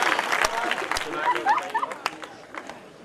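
Audience applause at a Hindi poetry recital in Shahjahanpur, a kavi sammelan in 2015, as a young woman poet is welcomed to the stage. Scattered, moderately loud clapping rises briefly amid crowd noise, with voices chattering underneath.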